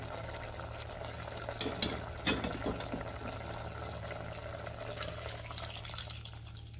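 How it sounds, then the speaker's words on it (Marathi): Water is poured into a pot of mutton rassa with a splashing, gurgling rush over a low steady hum, then settles into a quieter bubbling. "आता हे ताटातलं पाणी आपण मटणामध्ये घालूया"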